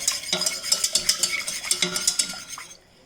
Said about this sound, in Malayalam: ഈ പഞ്ചസാര അലിയാനായിട്ടൊന്ന് ഇളക്കി കൊടുക്കാം കേട്ടോ